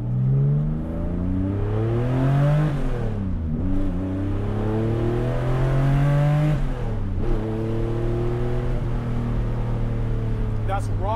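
A 1980 Porsche 911's naturally aspirated 3.6-liter, 316-horsepower engine revs repeatedly, climbing in pitch then dropping through gear changes, loud and close with a throaty tone.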